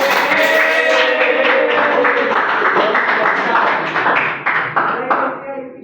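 A classroom of students claps together in a quick, ragged burst of applause that thins out toward the end, mixed with overlapping voices.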